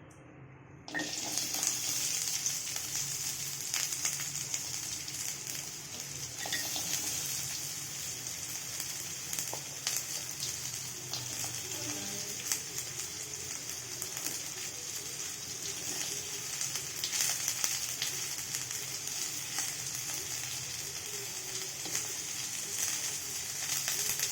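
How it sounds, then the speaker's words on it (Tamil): Onions frying in oil in a kadai for a potato kurma give a steady, continuous hiss and sizzle that runs close and evenly throughout, with no talking. "இப்போ கடாயில் கொஞ்சம் எண்ணெய் ஊற்றிக்கலாம் இப்போ வச்சுருக்கிறத ஆனியனும் போட்டுக்கலாம்"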